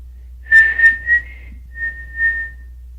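A person whistles a clear, sustained melodic tune, starting soft and then blowing louder, with several held notes separated by short pauses, heard alone.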